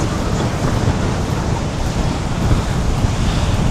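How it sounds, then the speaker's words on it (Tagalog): Strong wind roars steadily into the microphone, a dense buffeting rush blended with surf-like noise, loud and continuous throughout. "Grabe, ang lakas ng hangin"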